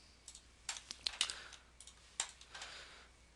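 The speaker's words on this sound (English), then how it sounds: "I'll just type in configuration A here." Soft, quick keystrokes on a computer keyboard tap out a short entry in irregular clusters, some keys clicking sharper than others, close and fairly quiet with no talking.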